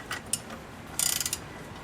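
A slider belt is turned while a screw is tightened, giving a quick run of ratcheting mechanical clicks after a couple of earlier isolated clicks. The sound is fairly close, with no speech.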